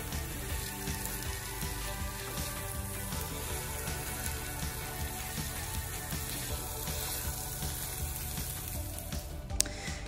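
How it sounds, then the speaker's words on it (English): Scrambled eggs with melting cheese sizzle in a pan, making a steady, low, continuous crackle with faint scraping and a single sharp click near the end. "I want to go ahead and scramble that cheese in so that it melts"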